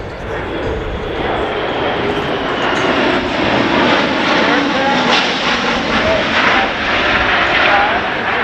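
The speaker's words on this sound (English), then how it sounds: "it's a big airplane, but listen to this" A USAF C-17 jet transport flies past at the Dayton Air Show, a loud, steady engine roar and rushing whine that swells gently over several seconds, with a narrator talking over it.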